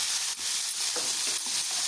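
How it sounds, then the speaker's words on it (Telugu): Tempering sizzles steadily in melted butter in a pan, a loud continuous frying hiss with faint spoon clinks, no voices. "బటర్తో పోపు వేసుకుంటే కమ్మగా ఉంటుంది."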